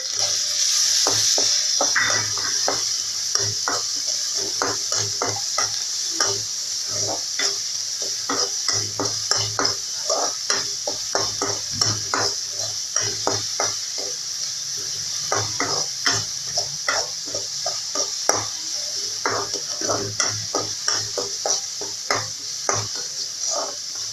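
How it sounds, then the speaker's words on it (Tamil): Garlic and onion saute in a pan for a valakkai fry, with a bright continuous sizzle under quick, regular stirring scrapes that repeat steadily throughout, close and without voices. "வெங்காயம் நல்லா கோல்டன் ப்ரௌனா வர வரைக்கும் வதக்கிட்டே இருங்க"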